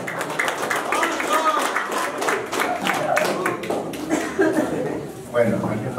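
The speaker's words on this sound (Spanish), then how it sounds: "Venga a los aplausos para nuestro amigo Rolando" Audience applause at a 50th anniversary party, scattered clapping running steadily under a voice speaking and occasional light laughter.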